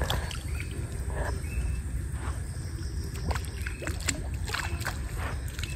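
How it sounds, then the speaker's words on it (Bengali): Fish leaping and splashing at the surface of a pond, with intermittent splashes and sloshing over a steady outdoor water background; a few brief bird calls sound faintly in the distance. "দেখেন দর্শক মাছগুলো কেমন যেন লাফালাফি করতেছে।"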